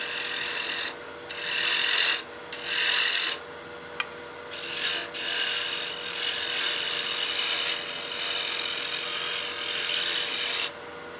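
Wood spinning on a lathe as a tool cuts down the diameter of a tenon, steady humming motor under bursts of harsh scraping and rasping, several short cuts at first, then a longer continuous pass.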